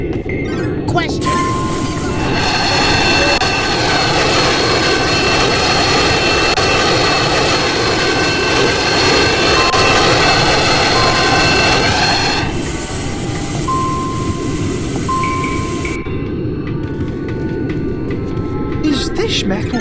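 An airplane jet engine in the Roblox video game roars loudly and continuously, a dense rushing drone that swells and holds for most of the stretch before easing, with a voice faintly beneath it.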